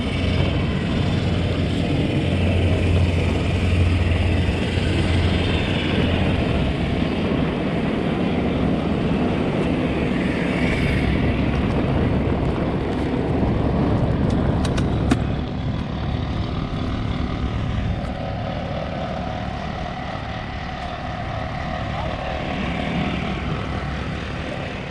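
Steady, loud turboprop drone inside the cabin of a Pacific Coastal Beech 1900C airliner in flight, a dense continuous roar with low propeller hum and airflow hiss, no talking.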